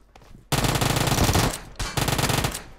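Rapid automatic gunfire in PUBG Mobile, a loud sustained burst of shots for about a second, a brief pause, then a second long burst, with no talk over it.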